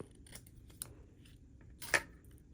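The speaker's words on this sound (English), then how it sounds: "So now I'll just cut off this little piece so that I know where the edge" Scissors snip a small piece of paper for a handmade card, a few quiet cuts ending in one sharper, louder snip near the close, with no talking.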